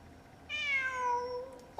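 A single drawn-out cat meow from the video game Genshin Impact, clear and tonal, rising then slowly falling for over a second, with a faint click right after.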